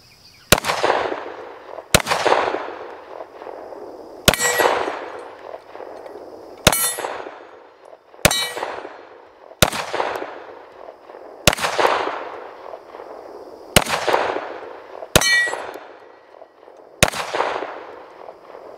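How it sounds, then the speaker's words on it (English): About ten single gunshots are fired at an outdoor shooting range at a steady, unhurried pace, each a sharp loud crack followed by a ringing metallic clang from a steel target, with no talking. "put a few rounds down range"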